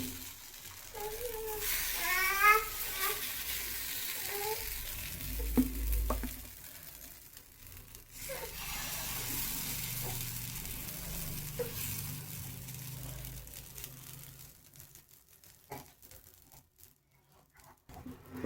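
A dosa cooks in ghee in a pan with a soft, continuous sizzle and occasional stirring scrapes, while an adult and someone talk nearby.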